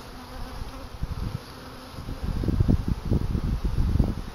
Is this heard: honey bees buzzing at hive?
yes